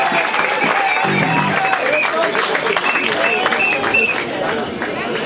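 A crowd at a summer festival applauds the coach of a sports team, with clapping mixed with cheering, chatter and a tonal sound, sustained and fairly loud throughout.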